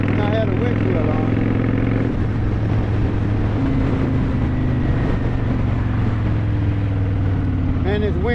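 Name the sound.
wind noise while riding a motorcycle at about 40 mph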